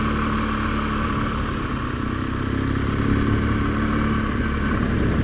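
A BMW R1200GS motorcycle rides through gentle hills toward a gorge, its steady engine drone mixed with wind rush and road roar, loud and continuous with no talking.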